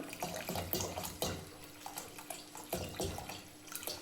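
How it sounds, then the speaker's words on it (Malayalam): Vinegar pours and splashes into boiled water in short, uneven bursts, with gurgling and trickling sounds close by, no voices. "തിളപ്പിച്ച വെള്ളത്തിലേക്ക് നമുക്ക് ചൊറുക്ക ഒഴിച്ചു കൊടുക്കാം"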